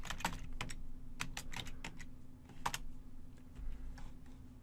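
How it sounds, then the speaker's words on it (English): Clicks from a computer keyboard come in quick irregular bursts as a search command is typed and entered, close and fairly quiet over a low steady hum. "we're going to type the modules search command and press enter"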